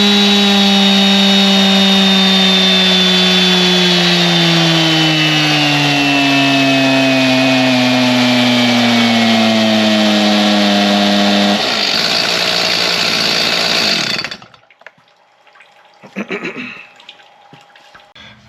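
A bone-stock Stihl MS361 chainsaw runs flat out on a dyno, a loud sustained high-revving whine whose pitch slowly drifts for about twelve seconds, then roughens and cuts off abruptly, leaving near silence with a few faint knocks.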